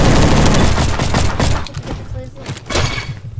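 Gunfire in the Roblox shooter Bad Business, a dense, loud burst of rapid shots at the start that thins into scattered pops, with a player's voice over it.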